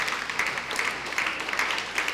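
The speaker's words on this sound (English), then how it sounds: "a huge round of applause to the great work that has gone into that" Audience applause at a school district meeting, dense steady clapping with a rhythmic pulse, moderately loud and continuous throughout.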